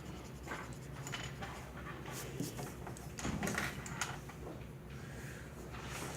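Soft scratchy strokes of a pencil on paper as a rectangle is drawn, quiet and close, with scattered light rubbing and small handling noises.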